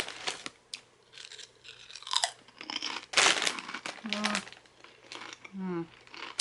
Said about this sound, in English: So I got some chips.